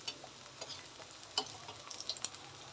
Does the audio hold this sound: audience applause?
no